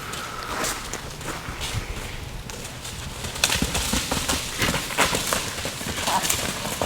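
A mare walks with clip-clopping hooves and a few snorts, heard close on open ground, growing slightly louder partway through.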